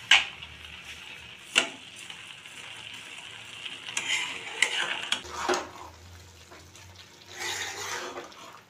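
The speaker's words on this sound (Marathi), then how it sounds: "अशा प्रकारे सारखं हलवत राहायचं याला, म्हणजे खाली लागतही नाही आणि साखरही छान त्याच्यामध्ये मिक्स होते" A spoon scrapes and clinks against a pan while sugar is stirred into colostrum ladoo mixture, with irregular scraping strokes and a few sharp taps, close and fairly quiet, with no talking.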